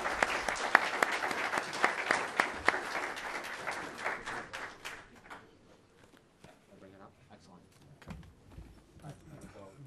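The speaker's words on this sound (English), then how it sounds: "let's give the panelists a round of applause" Applause for a panel of speakers at an academic discussion: dense, fairly loud clapping for about five seconds that thins out and dies away, leaving quiet room noise and shuffling with a few scattered claps.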